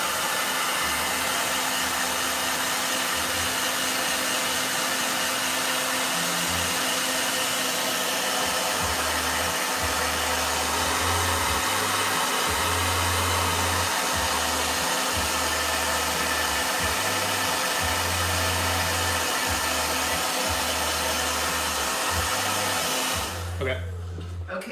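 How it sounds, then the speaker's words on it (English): A hair dryer blows with a steady, loud hiss and whine throughout, with low thumping rumbles in the background, ending abruptly. "Wait, hold on a second. Blow dryer."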